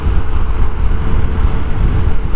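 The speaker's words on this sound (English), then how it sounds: "So, that's a lot of wind." Strong wind buffeting the microphone while riding a Honda CT125 motorcycle, a loud continuous rumbling roar with no breaks and no voices.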